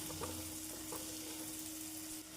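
Chopped onion and two cloves of garlic frying in a pan for a Tamil flat bean stir-fry, a steady soft sizzle with faint stirring scrapes, continuous and fairly quiet with no talking.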